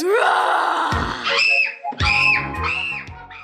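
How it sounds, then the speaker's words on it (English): Mildred from The Worst Witch lets out repeated high, shrill screams in bursts, broken by short gasping, hyperventilating breaths, loud and close with no other sound. "It's this uncontrollable, hyperventilating scream that racks up the points against her"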